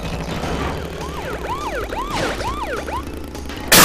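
A wailing police siren in the video game Crash Bandicoot 3: Warped sweeps up and down in repeated cycles over a steady rumble of background noise, ending with a sudden loud burst.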